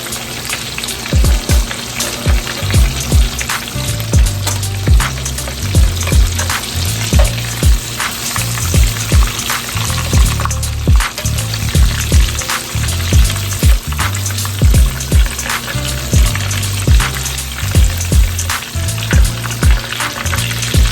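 Homemade KFC-style chicken tenders fry in a skillet of hot oil, a loud, steady crackling sizzle with regular pops and repeated soft thumps of the pieces being moved, close up and without talking.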